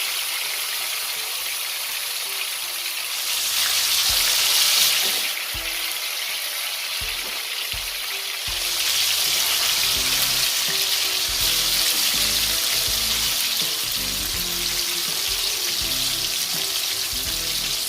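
Chicken pieces for Jamaican fricassee chicken sizzle steadily in a frying pan, a loud continuous crackle that swells briefly and carries on without voices.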